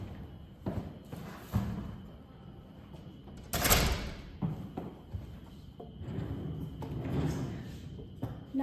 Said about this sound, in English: Can I just close this door and we can discuss this privately?